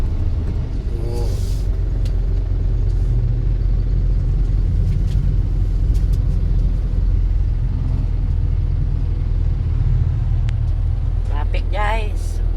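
Steady low rumble of downtown street traffic, with cars and heavier vehicles idling and moving nearby and a brief air-brake hiss early on, while voices talk over the constant engine drone.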